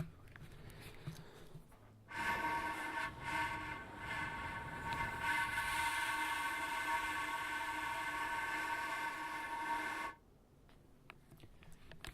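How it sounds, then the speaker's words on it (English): The top half of a bagpipe bass drone: a single steady droning reed tone starts abruptly, holds loudly for about eight seconds, then cuts off, with quiet background before and after. "this is the sound of the top half blowing through the top half of the bass drone"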